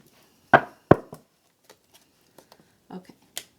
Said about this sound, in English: split the deck 3 times, and then free shuffle.